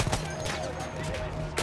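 Rapid gunfire in the Battlefield 1 campaign, with dense crackling shots rattling over a busy battlefield din for under two seconds and a voice speaking briefly.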